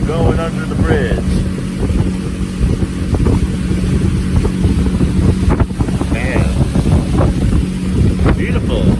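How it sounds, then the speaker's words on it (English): A motorboat's engine drones steadily during a ride on Lake Douglas, heavily buffeted by wind noise on the microphone, with people talking over the low rumble throughout. "Look how much power that boat thing has."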